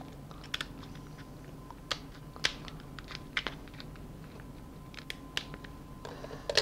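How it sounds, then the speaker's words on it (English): Scissors cutting through a lobster tail shell, sharp close clicks and snips scattered over a steady low background hum, fairly quiet. "And then cut with scissors."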